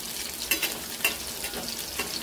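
Garlic and green chillies sauté in a pan for a bhendi bhaji, giving a steady soft sizzle with a few louder stirring scrapes and pops; quiet, close, no voices.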